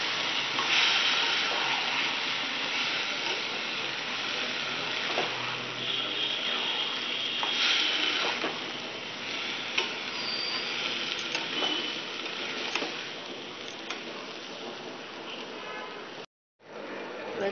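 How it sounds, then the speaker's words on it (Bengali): Washed gobindo bhog rice being mixed into a pan of cooking khichri, with a continuous hiss and sizzle and occasional soft scrapes of stirring throughout, cut off by a brief dropout near the end. "এবার এই সব কিছুর সাথে আগে থেকে ধুয়ে রাখা চালটা দিয়ে দেব। দিয়ে একটু মিশিয়ে নেব।"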